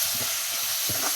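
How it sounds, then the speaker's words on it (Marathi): Tomatoes fry in hot oil with onion, garlic and spices, giving a steady close hiss and sizzle throughout, with soft low knocks of stirring underneath. "टमाट थोडा मऊ होईपर्यंत चांगलं परतवून घ्यायचं"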